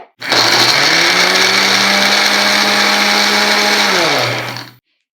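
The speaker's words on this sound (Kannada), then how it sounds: "ಇದನ್ನು ಚೆನ್ನಾಗಿ ಈ ಮಿಶ್ರಣನ ಗ್ರೈಂಡ್ ಮಾಡ್ಕೋಬೇಕಾಗತ್ತೆ" A mixer grinder blends a paste of deseeded dates for laddu, a loud steady motor whir starting abruptly, holding one even pitch for about four seconds, then dropping in pitch as it spins down and stops.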